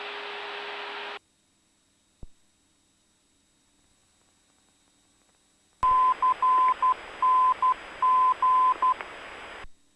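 Morse code identifier of the Paducah VOR received on an aircraft nav radio: after a burst of hiss and near silence, a steady tone keys out dots and dashes over radio static, moderately loud and clear.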